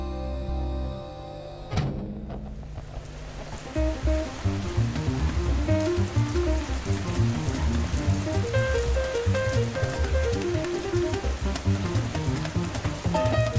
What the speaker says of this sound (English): The rain grows louder.